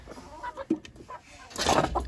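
Chickens cluck in short bursts, close by, with a louder flurry of clucking and rustling toward the end.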